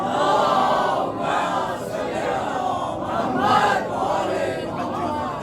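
Many voices of a majlis congregation in Mahdiya, Bandra chant salawat in unison once more, a thick continuous crowd sound with gentle swells in loudness.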